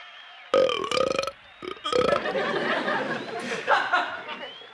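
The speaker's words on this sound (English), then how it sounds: "you just burp" A loud, drawn-out burp after a root beer bursts out close up in a few rough pulses, then trails off into low chuckling and murmured voices.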